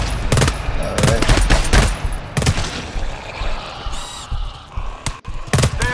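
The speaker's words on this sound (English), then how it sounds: "Now the boys are shooting at you" Gunfire in the co-op shooter GTFO crackles in rapid bursts and single sharp shots, loud and close, with brief pauses between volleys and a few heavier thumps.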